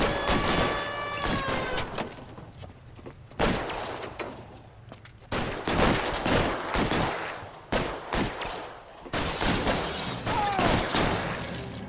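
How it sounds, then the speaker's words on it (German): Video game gunfire in L.A. Noire, repeated sharp shots and bursts in clusters across a busy action scene, loud and close with cracking reports and brief pauses between volleys. "Wow, wird einfach mal direkt geschossen."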